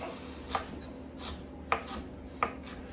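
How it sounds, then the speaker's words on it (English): A knife slices fresh ginger on a cutting board, producing a few soft, separate chopping taps about a second apart against a quiet background. "to slice it down. Don't need to really kind of mince it."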